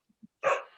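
A pit bull lets out a quick, sharp bark after two tiny taps, followed by the start of another bark, heard alone and fairly close.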